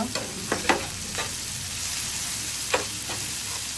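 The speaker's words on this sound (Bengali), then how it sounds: "পেঁয়াজগুলিকে ভালো মতো ভেজে নেব" Chopped onions fry in a pan, giving a steady sizzle while a spatula stirs them, adding several sharp scraping strokes close to the listener, with no talking.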